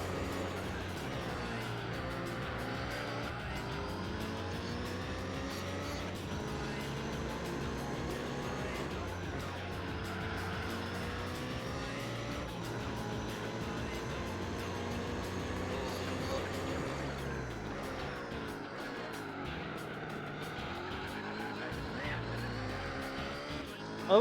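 A car engine in Gran Turismo 4 revs and shifts through gears, its harmonic drone rising and falling steadily over the whole stretch, with quieter background sound beneath.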